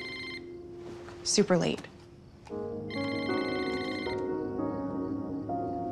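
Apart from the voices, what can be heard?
telephone ringing late at night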